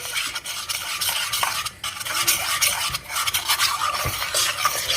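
A chocolate bar mixture is stirred steadily in a pan as it thickens, with continuous close scraping and swishing, a light sizzle underneath and no speech.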